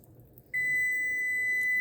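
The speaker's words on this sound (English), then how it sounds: "that's my timer going off" A kitchen timer starts beeping partway through, a steady, loud, high electronic tone that holds without a break, set against quiet background noise while chocolate chips melt for Christmas fudge.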